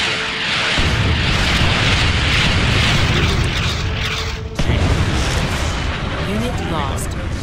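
In the strategy game Generals Zero Hour, a missile launch and explosions merge into a loud, continuous rumbling roar that briefly dips midway before surging again, with clipped unit voice lines mixed in.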